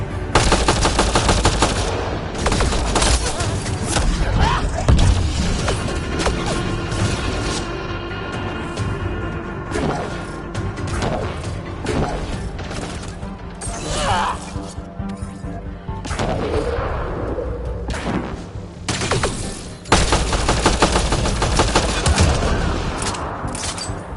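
Loud, sustained automatic gunfire and explosive blasts from combat in the video game Mass Effect Andromeda, with rapid bursts and heavy impacts continuing throughout.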